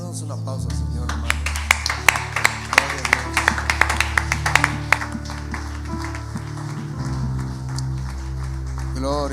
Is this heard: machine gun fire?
no